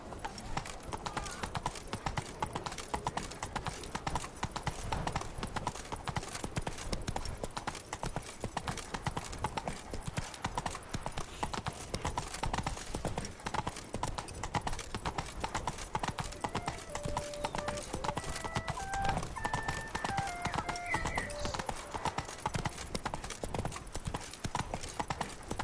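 Roach, Geralt's horse in The Witcher 3, gallops with a steady, fast clip-clop of hooves throughout, under continuous game sound and faint music.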